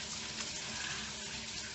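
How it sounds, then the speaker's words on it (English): Water runs steadily from a home shower, a dense, even hiss and splash that holds at a constant level throughout with no pauses. "I'm gonna go ahead and get in the shower"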